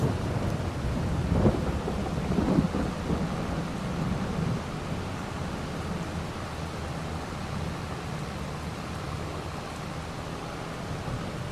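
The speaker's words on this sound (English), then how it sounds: "Looks like the rain has set in for a bit as well." Steady rain and rumbling thunder in Farming Simulator 22 form a continuous broadband wash, with a deeper thunder swell in the first few seconds before easing into a constant downpour.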